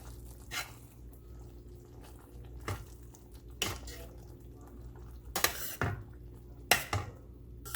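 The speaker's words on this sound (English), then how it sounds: "So I cut all the paneer and now I'm going to add it to the gravy" Paneer cubes dropped into a pan of shahi paneer gravy, with scattered clinks and knocks of a utensil against the pan and soft splashing, quiet and close, over faint background hum.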